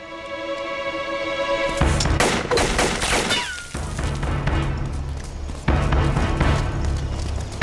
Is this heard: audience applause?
no